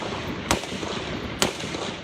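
Two sharp gunshots, roughly a second apart, crack out at a distance during a shooting at a congressional baseball practice, captured on a cell phone over a steady background hiss.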